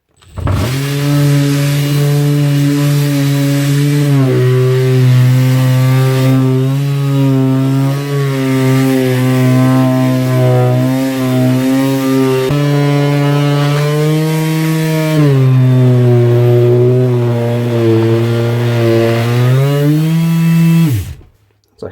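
A Makita DBO380 cordless finishing sander running at high speed on rough pine, a loud steady motor whine with a buzzing hum that dips and recovers slightly under pressure, continuous and close before cutting off at the end.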